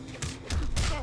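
Cyrax's close bomb in Mortal Kombat X detonates with a few quick, loud, broadband blasts in close succession over a low rumble, each burst sharp and near.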